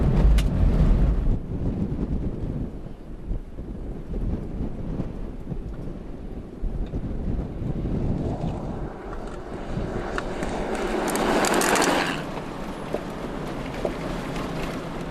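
A vehicle cruising along a dirt road at 80 km/h gives a loud low rumble of engine and tyres with heavy wind buffeting on the microphone, a steady drone that builds to a rushing surge near the end.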